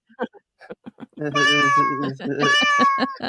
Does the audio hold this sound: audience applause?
no